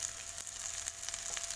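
Chili frying with garlic in a pan for a Thai salt-and-garlic shrimp stir-fry, a steady, close sizzle with soft crackles and a faint low hum underneath.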